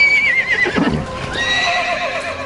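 A horse whinnies loudly up close in a historical drama setting, a long wavering neigh rising and falling, with a soft clip of hooves beneath it and no talk.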